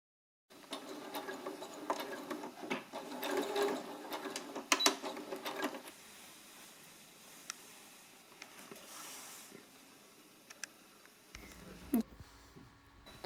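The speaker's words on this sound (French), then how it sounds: "On vient réaliser une couture en suivant notre tracé et en respectant bien l'angle." A sewing machine stitching a seam along a fabric strap, a rapid mechanical needle chatter in bursts for several seconds, then slower isolated clicks and a final clack as the work is adjusted.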